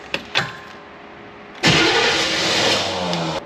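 A diesel engine, its injectors just bled, cranks in two short bursts, then fires and catches, settling into a loud, steady running roar close by.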